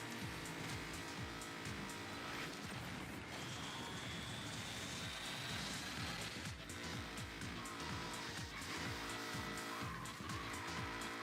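A car in the racing video game Screamer drifts flat out through a corner, its engine roaring loudly and steadily while tires squeal through the slide.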